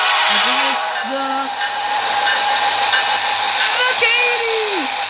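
A train with two Phalanx engines at the back rumbles past, a loud continuous roar with a strong hiss and brief tonal squeals, while a voice is heard over it.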